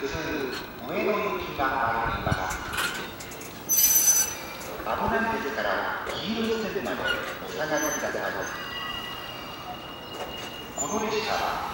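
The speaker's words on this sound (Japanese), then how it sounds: "当駅始発普通上野行きが参ります。" JR 211 series 3000-subseries train on the Utsunomiya Line pulling into Koganei station, wheels squealing and rumbling steadily beneath a station announcement for a train to Ueno, with a loud burst of brake hiss near the middle.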